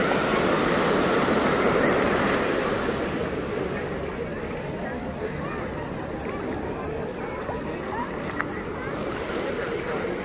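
Ocean waves wash continuously onto Playa Tlacopanocha, a central beach in Acapulco, as a loud, close, broadband surf roar, slightly stronger at first and then steady, with no clear voices.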